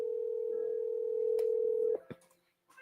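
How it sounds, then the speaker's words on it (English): Telephone ringback tone heard while placing a call, a single steady electronic tone held for about two seconds, then cut off and followed by a few faint clicks and quiet. "So I'm actually dialing the next one right now."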